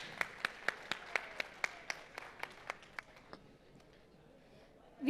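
A sparse round of claps from a sleepy audience before a panel discussion: a dozen or so distinct, fairly quiet claps in a loose rhythm, thinning out and fading after about three seconds.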